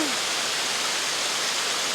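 Steady rushing white-noise roar of a hidden waterfall pouring into a green pool, close and unbroken throughout.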